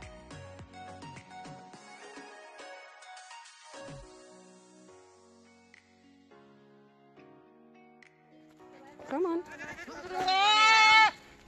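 Young Boer goat kids let out loud, wavering bleats toward the end, close by, after a quieter stretch of background noise.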